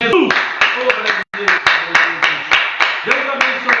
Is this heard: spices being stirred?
no